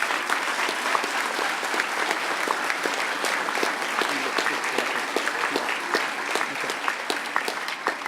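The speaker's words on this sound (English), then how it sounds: "Give these guys a round of applause." A hall of conference attendees applauds volunteers at a hacker conference closing ceremony, steady dense clapping with sharp individual claps standing out, continuous throughout.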